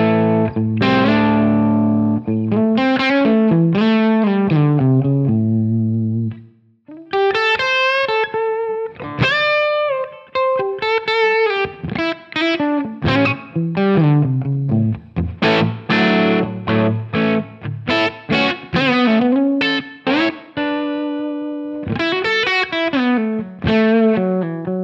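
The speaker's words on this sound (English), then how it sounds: "Let's go to the Tweed Blues Bright." A Gibson SG electric guitar plays through a Helix Tweed Blues Bright amp model with a distorted, effects-laden tone. Busy, loud melodic lines and chords run continuously, with a brief pause partway through. No voice is heard.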